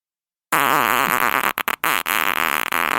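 A loud, long fart with a rippling, buzzy tone, broken by a few sharp dropouts midway before carrying on to the end. It is joked about as being ripped into a bamboo trap, and a voice may be imitating it.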